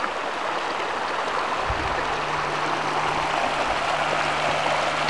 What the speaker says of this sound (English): Come down a little closer to the creek here. A lot of water.